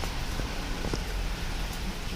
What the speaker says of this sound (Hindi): बारिश स्टार्ट हो चुकी है और तीसरा दिन आज लगातार बारिश आ रही है